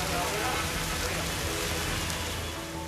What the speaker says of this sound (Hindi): इंदौर के ज्यादातर इलाकों में दिन भर बादल छाए रहे और झमाझम बारिश होती रही